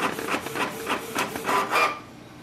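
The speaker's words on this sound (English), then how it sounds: "It's printing." A Canon TS3700 printer prints a test page, giving a quiet, rhythmic series of soft mechanical swishes and rubbing pulses from the paper feed, about six in a row, then fading to near silence.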